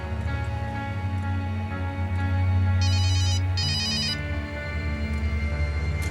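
A mobile phone's electronic ringtone chirps in two short bursts over a steady low hum and background noise.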